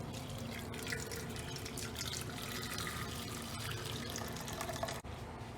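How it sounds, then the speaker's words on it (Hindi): Curdled milk for paneer is strained through a muslin cloth, its whey running off in a steady broadband trickle and splash like water pouring into a sink, continuous and fairly close, with no talk. "अब हमने एक मलमल के कपड़े में इसको छान लेना है।"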